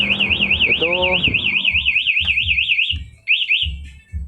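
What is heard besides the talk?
Honda Beat motorcycle alarm sounding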